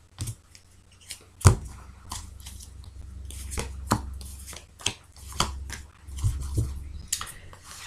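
A deck of oracle cards is cut and shuffled by hand, giving crisp, irregular snaps, taps and soft riffles close up in a quiet room, with no talking.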